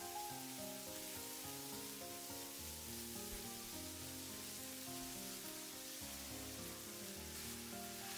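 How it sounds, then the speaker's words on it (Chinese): Seafood mushrooms stir-fried in a wok, a faint continuous hiss of frying with muffled tossing underneath, steady across the whole stretch with no talking. "翻炒个5、6、7、8下"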